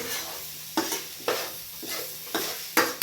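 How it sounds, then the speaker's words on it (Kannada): Finely diced potatoes fry in a pan over low heat, a soft steady sizzle punctuated by about six sharp scraping stirs of a utensil against the pan at uneven intervals, with no voices. "ಈಗ ಬಟಾಟಿ ಹಾಕಿ ಹಾಕಿ ಚೆಂದ ಕಾಯಿಸ್ಕೊತೀನಿ ರೀ"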